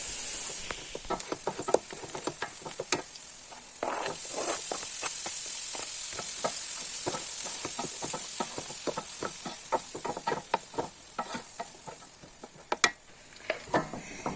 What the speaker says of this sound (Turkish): burada yağ soğanı qovurmuşam, qovururam